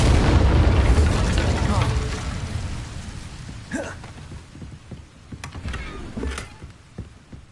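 An Incendio fire spell bursts in Hogwarts Legacy with a loud, roaring whoosh of flame that swells and then fades into crackling, followed by scattered smaller pops and impacts.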